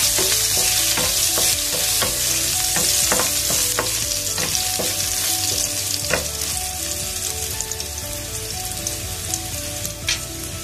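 Chopped chillies and a pinch of asafoetida fry in a pan for an aubergine curry, giving a steady close sizzle with scattered pops and crackles and occasional stirring scrapes throughout, with no talking.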